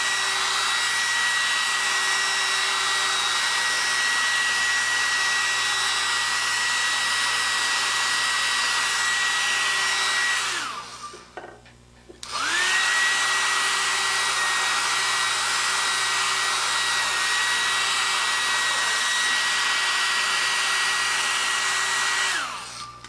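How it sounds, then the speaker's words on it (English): A hair dryer runs steadily and loud close by, heating the lens wheel of a phoroptor, with a brief cut-off around the middle before it restarts and blows on for the rest of the span. "I also go through and heat it up with a hair dryer to drive off any additional moisture."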